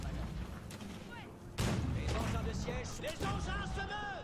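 Heavy cannon fire during an Age of Empires 4 multiplayer battle against the Mongols: a sharp booming blast lands mid-clip over a dense bed of game combat noise, with a voice talking throughout.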